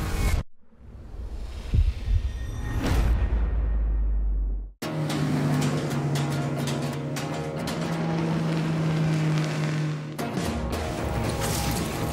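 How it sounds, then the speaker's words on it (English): A Mercury outboard boat engine runs steadily with a droning hum and rushing water, preceded by a rising splash and wash; the sound stays loud and close, cutting off briefly before resuming. "Mercury engine test."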